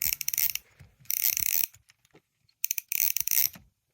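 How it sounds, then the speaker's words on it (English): Stripped gears grind and ratchet inside a worn fishing reel with loosened drag, in two long rasping bursts separated by a brief pause with a few scattered clicks. "the gears inside are actually stripping. That's that noise."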